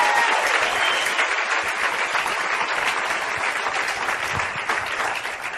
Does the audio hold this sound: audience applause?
yes